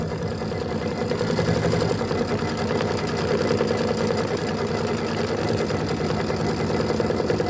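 A sewing machine stitches a quilt block tack-down steadily and rapidly, its even mechanical rattle running close and unbroken for several seconds.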